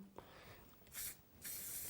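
Two short bursts of hissing spray from an aerosol can of watercolour fixative, each lasting a fraction of a second, close and fairly loud with a quiet pause between.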